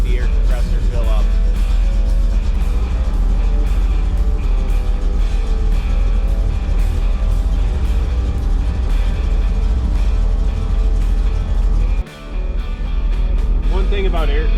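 A car with air suspension idles after being pulled out of a garage to warm up, a steady low engine rumble running throughout with a brief drop near the end, while someone talks over it.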